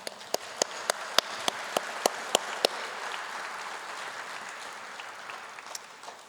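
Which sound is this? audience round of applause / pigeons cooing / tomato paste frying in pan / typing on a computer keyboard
audience round of applause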